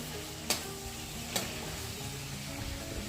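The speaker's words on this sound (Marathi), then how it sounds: "त्याच्यानंतर मिक्स करायचं आहे जेणेकरून बेसन सगळ्या शिमला मिरचीला लागेल।" Bell peppers coated with gram flour are stirred in a pan over a constant sizzle, with two sharp scrapes of the spoon against the pan.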